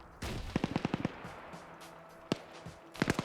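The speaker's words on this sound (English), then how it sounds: "We just had an RPG launch overhead." An RPG launches overhead in a military shooter game, heard as a string of sharp cracking bangs and explosive pops amid distant gunfire, with separate blasts following a moment later.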